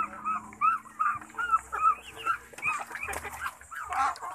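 Muscovy ducks in a pen chatter in a rapid series of short, nasal calls, moderately close, with scattered clatter and shuffling noises around them.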